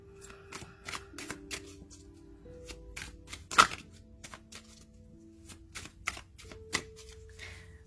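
Tarot cards shuffled and drawn in a quiet room: a steady run of soft flicks, riffles and snaps, with one louder slap near the middle, close and fairly faint, with a low hum underneath and no voice.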